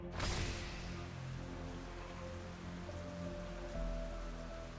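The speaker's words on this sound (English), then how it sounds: "A drop of rain falls upon the tip of the spear." Steady rain falling in the video game Arknights, a dense continuous hiss with a brief louder onset, heard alone without voices.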